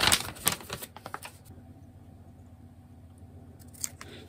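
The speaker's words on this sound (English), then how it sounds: "Well, this is now dry, so we're going to cut it out." Scissors snipping out a tea-stained paper label, a quick run of crisp close cuts at the start, then quieter sparse snips with a faint hiss between.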